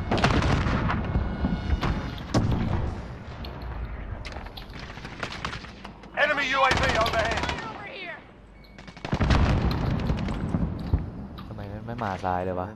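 Bursts of automatic gunfire in the video game Call of Duty: Modern Warfare, loud, rapid and dense, breaking off briefly before resuming, with people talking over the shooting.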